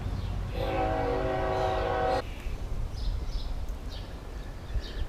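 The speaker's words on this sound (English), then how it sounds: "And I hate that damn train." A loud train horn blares steadily for about two seconds over a rumbling rail bed, then cuts off, leaving the low roar of cars rolling past.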